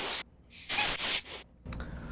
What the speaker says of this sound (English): I'm just going to spray this out with a little bit of air.